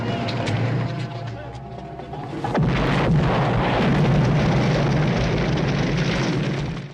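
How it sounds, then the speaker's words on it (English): A car exploding in the 1958 film Touch of Evil: a sudden loud boom breaks over film music and lingers as a roaring rumble, with voices speaking beneath it. "That car that just passed us exploded."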